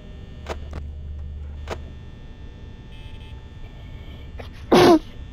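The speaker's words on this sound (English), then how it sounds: "I sneezed." A single loud, close sneeze bursts out near the end, after a quiet stretch of faint clicks and low hum while a Five Nights at Freddy's game plays.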